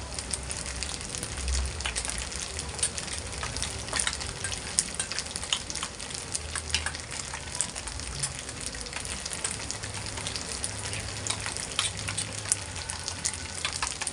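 A dish stir-fries in a pan after oyster sauce goes in, with a continuous close sizzle and occasional soft scraping over the full stretch and no voices.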